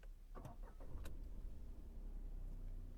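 Tata Tiago NRG 2024 iCNG hatchback cranking on CNG: a few short clicks and starter whirrs early on, then the engine catches and settles into a steady low idle hum, close and moderately loud.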